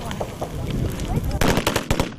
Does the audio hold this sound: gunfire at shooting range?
yes